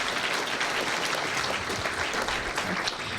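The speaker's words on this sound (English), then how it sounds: "help me give a warm round of applause to both of our panels of experts today?" Loud, sustained applause from a morning audience at a water-innovation panel event in San Diego, a dense wash of many hands clapping steadily with no voices over it.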